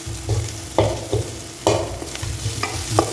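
Spices fry in a kadai pan for kadai chicken, a steady sizzle punctuated by several sharp scraping stirs of the spoon against the metal, close and fairly loud with no voices.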